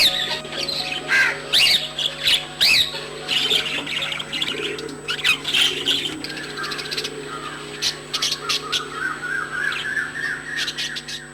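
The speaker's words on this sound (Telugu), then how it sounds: "ఎన్నో రకాల పక్షుల కిలకిల రావాలు ఆ ఇంట్లో వినిపిస్తూ ముచ్చట గొలుపుతుంటాయి" Many pet birds in a house in Krishna district, among them pigeons and lovebirds, chirp and squawk together in a busy, overlapping chorus of short calls that goes on without a break.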